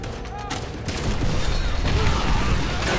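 Type 99 rifle fire in the World War II shooter Call of Duty: World at War, with sharp reports over a heavy, continuous battle din of overlapping gunshots and rumbling blasts that swells louder after the first second.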